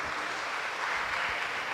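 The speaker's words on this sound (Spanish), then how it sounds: "Un aplauso para el hermano." Applause from a church audience at a missionary formation gathering, a steady broadband patter of clapping that holds evenly for under two seconds with no voices over it.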